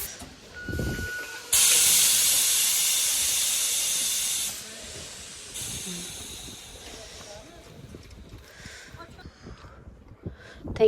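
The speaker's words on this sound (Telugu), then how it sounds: "సో ఫ్రెండ్స్, ఇదే మన ట్రైన్." At a railway station, a train lets out a sudden, loud burst of hissing steam that lasts about three seconds, then a second, fainter hiss follows. Station bustle and voices continue in the background.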